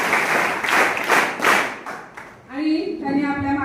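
School students clap together to welcome a guest at an assembly, a burst of dense applause over the first two and a half seconds, then fading as a voice begins speaking.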